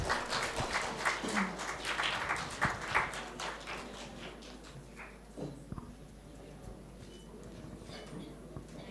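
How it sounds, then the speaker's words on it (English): Audience applause at a research methodology workshop: a fairly faint burst of many hands clapping that is strongest early and gradually thins out into scattered claps. "Yes, a big round of applause, everybody."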